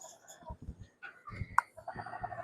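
A six-month-old Pure 5K gamefowl rooster from a game farm clucks in a few short, close bursts with soft rustling between them, ending in a sharper louder call.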